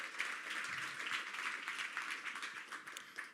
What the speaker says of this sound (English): Give us a little clap for that.